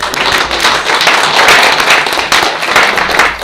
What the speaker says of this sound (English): Again, just a round of applause.